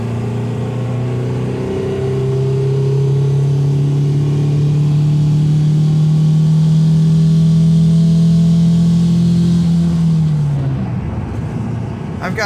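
A 1.9L TDI diesel engine swapped into a Toyota with a GTC2262 mini semi turbo pulls hard in third gear from about 50 mph, its steady drone climbing in pitch for ten seconds before easing off, heard from inside the cabin.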